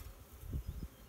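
Faint buzzing of honey bees on a hive frame close by, a low wavering hum that swells briefly in the middle.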